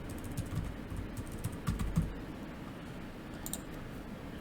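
Fingers tap quickly on a computer keyboard, producing light, faint clicking keystrokes in uneven bursts against a quiet room background.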